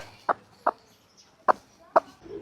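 Four short, sharp clucks from a chicken, spaced irregularly and fairly close, with near silence between them.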